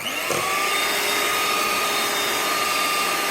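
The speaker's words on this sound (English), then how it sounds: "You can see how the whisk glides through it when I turn it on" An electric whisk whirs steadily through creamy chocolate Nutella cake batter, a continuous motor drone that starts with a brief bump and then holds at an even, fairly loud level.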